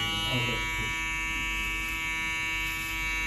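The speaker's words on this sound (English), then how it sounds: "So I'm going to go ahead and turn it on so y'all can hear it." A TPOB Goblin hair trimmer hums and buzzes steadily up close, its motor drone running without pause as the blades cut through hair.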